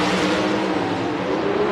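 A Dodge drag racing car runs loud and steady from onboard at the 1994 Arizona Nationals, its engine roar a constant, dense drone throughout with no voices.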